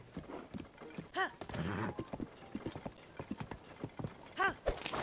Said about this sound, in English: I understand the horse stopping